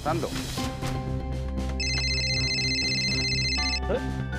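A phone rings with a steady electronic tone for a couple of seconds over background music or noise.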